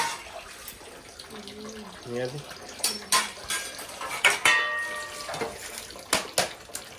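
Dishes clatter and cutlery clinks at a running tap, with water splashing in bursts and a voice speaking briefly in between.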